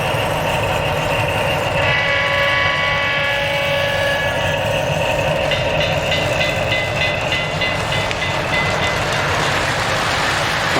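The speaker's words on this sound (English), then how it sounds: "the noise of the train itself, it drowns it out." A model train pulled by Santa Fe engines with a sound-equipped boxcar, running as a steady close rumble with sustained whining, horn-like tones that shift partway through.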